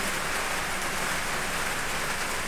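Steady rain falls close by during Diwali, a dense, even hiss of drops striking surfaces with no pauses.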